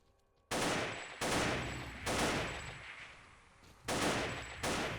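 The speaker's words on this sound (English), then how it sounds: "let me try out the AK, actually, just see if it even does damage" AK rifle fire in the video game Fate of the Zone: five loud, close bursts of automatic gunfire, each cutting in sharply and ringing out, spaced about a second apart.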